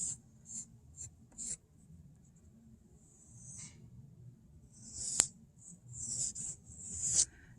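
A pencil moves on paper while a self portrait is drawn, giving soft, faint scratchy strokes in short bursts separated by quiet pauses, close and alone.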